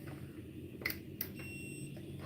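A game controller gives two short, sharp electronic beeps as it is switched on, heard faintly over a low background hum.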